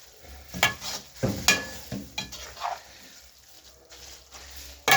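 Spaghetti being stirred into roast masala in a pan for chicken roast spaghetti: close scraping and clacking strokes over a soft sizzle, several uneven stirs followed by a quieter stretch.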